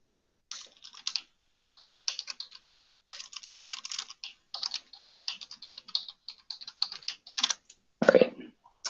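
Password being typed on a computer keyboard, with bursts of quick, light key clicks separated by short pauses and a louder thump of a key press near the end, close and clear with no talking.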